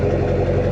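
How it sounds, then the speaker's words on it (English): A 2004 GMC 2500HD Duramax diesel pickup fitted with an MBRP exhaust idles nearby, a loud, steady low rumble throughout the brief moment. "The truck sounds great."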